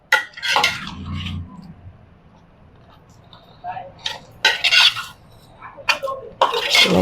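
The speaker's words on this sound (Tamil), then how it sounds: "இது கலப்போம்." A spoon stirs barley kanji with boiled yam pieces and masala in a pot, giving close, intermittent clinks and scrapes against the metal, separated by quieter gaps.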